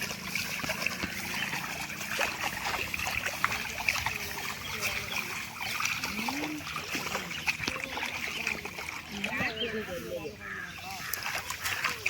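Rice seedlings pulled by hand from a flooded paddy field, with repeated wet splashes and water trickling in irregular bursts, while people talk over the work outdoors.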